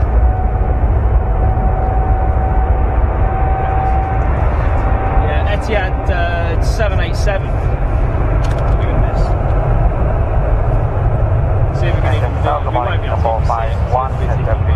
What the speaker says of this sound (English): Oh, listen to this. That's a 777.